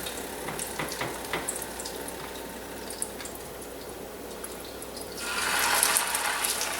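Salmon croquette patties frying in a small pan, four at a time, giving a steady low crackle and sizzle that swells louder and brighter near the end.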